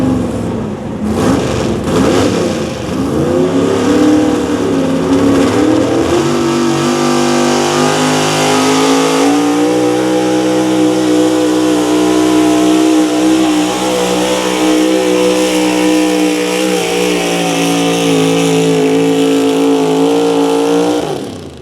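A pulling truck with a big engine revs hard at a truck and tractor pull, a loud, sustained roar that climbs in pitch and then holds a steady high drone, heard close for over twenty seconds.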